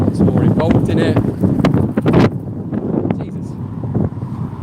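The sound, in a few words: wind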